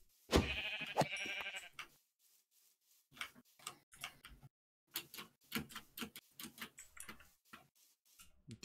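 Sheep in the video game Minecraft bleat once clearly near the start, then a run of quieter, clicky bursts follows with short gaps of silence between them.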